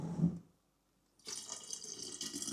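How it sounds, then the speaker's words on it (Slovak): Clean filtered water pours steadily into a glass jar for water kefir. The stream is faint and close, starting after a short quiet gap. "A teraz dolejem čistú filtrovanú vodu."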